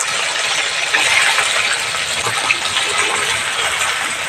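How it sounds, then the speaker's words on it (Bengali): Okra frying in hot oil in a kadai, a steady dense hiss of bubbling fat, close and continuous with a few small pops and no talking. "ভেন্ডিগুলো আমি একটু ভেজে নেব"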